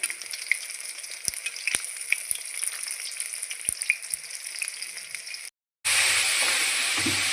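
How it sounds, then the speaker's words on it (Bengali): Mushroom pakoras fry in hot oil and get turned over, a close, continuous sizzle with occasional sharp clicks and pops, briefly cutting out before a louder, denser burst of frying. "ওগুলো ভেজে নেব একইভাবে উলট পালট করে"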